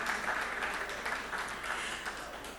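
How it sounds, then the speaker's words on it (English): An audience at a sustainable finance conference panel claps in a quiet, distant, continuous ripple as a speaker walks onto the stage. No voices are heard. "So please, once again, a round of applause as he joins us on stage."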